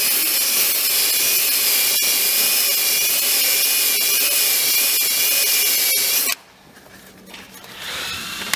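A power tool grinds paint off a minivan chassis in a loud, steady high-pitched whine for about six seconds, then cuts off abruptly, leaving quieter room noise that rises slightly near the end.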